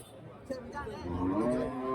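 A cow, a dairy cow at the Karimangalam cattle market in Dharmapuri, moos in a long, rising low call that swells over a couple of seconds, moderately close amid faint background market noise and voices.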